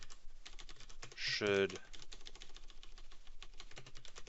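Rapid clicking of a computer keyboard while someone codes, with a short louder burst of keystrokes mid-clip; someone talks over the typing.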